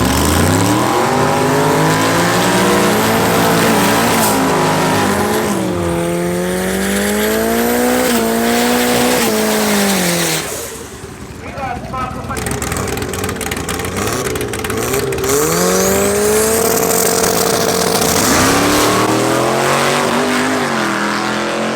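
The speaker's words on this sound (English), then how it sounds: "we Got Marco going up against a nitro straight Mustang" A nitro-fuelled, straight-drive Mustang drag race car at a raceway gives a loud, close engine roar that climbs through rising pitch sweeps. A short lull comes partway through before the revving and acceleration build again.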